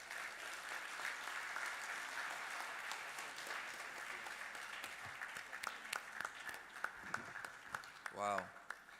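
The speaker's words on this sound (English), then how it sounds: "Another round of applause for him" An audience at a high-level expert panel discussion applauds the speaker, sustained clapping that thins into scattered louder claps, with a voice speaking briefly near the end.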